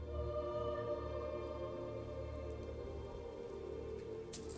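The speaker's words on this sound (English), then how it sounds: "I swear it rains like this every time I go to Riften." Steady rain falls in the town of Riften in the video game Skyrim, a continuous hiss of drops on surfaces that holds at an even level throughout with no speech.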